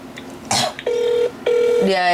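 A mobile phone gives two sustained electronic ring tones, close and fairly loud, with a brief rustle before them and a rising melodic tone at the end.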